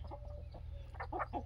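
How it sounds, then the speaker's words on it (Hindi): Desi chickens and a rooster clucking close by, a few soft, short clucks that come in quick bursts over low, steady background noise. "आप देख सकते हैं प्योर देसी मुर्गे"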